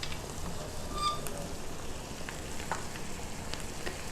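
Beans sizzle and crackle in a hot pan as partly cooked beans are added to a sautéed base, a steady faint frying hiss with scattered soft pops throughout, no talk.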